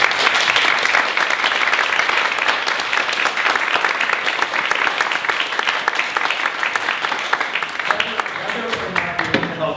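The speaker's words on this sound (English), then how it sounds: "We give Dr. Fixsen a round of applause." Sustained applause from an audience at a health careers information session, dense steady clapping filling the whole stretch and thinning slightly toward the end.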